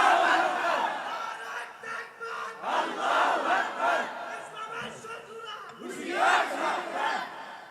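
A large crowd at a religious gathering chanting takbir, repeated loud waves of massed shouting in rhythmic bursts, reverberant and continuous.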